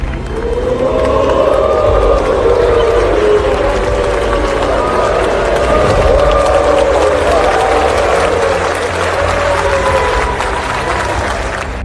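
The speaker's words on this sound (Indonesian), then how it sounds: "Pada saat itu terdengar suara sorakan hu dari peserta sidang yang juga disertai tepukan tangan." At a parliamentary session, a crowd boos with long drawn-out jeers mixed with steady applause, forming a loud, continuous roar throughout.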